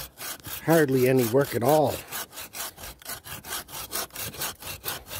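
An old hand saw cuts hardwood with a steady back-and-forth rasp, about a dozen rhythmic strokes close by, while someone speaks briefly over the first strokes.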